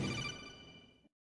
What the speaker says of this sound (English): Wait a minute. Phone call.